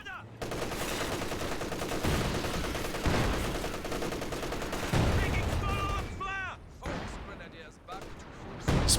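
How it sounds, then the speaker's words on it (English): Dense, loud gunfire from an MG34 machine gun barrage in a competitive video game match, sustained bursts across the whole stretch with other battle noise mixed in. "Barrage going in on the MG34"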